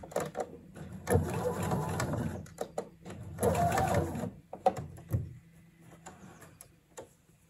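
A sewing machine stitches a blouse seam in two short whirring runs, stopping short of the seam start, with ticking handling clicks in between and a quieter tail at the end.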